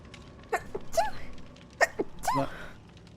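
A person sneezes twice in quick succession, close and fairly loud, each with a short sharp burst and a voiced catch.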